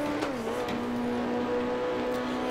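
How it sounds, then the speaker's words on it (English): In the Grand Prix Legends racing game, a rival race car's engine drones close behind the player's car during an online race, a steady tonal buzz that dips slightly in pitch and then holds under faint track noise. "You can hear the car behind me."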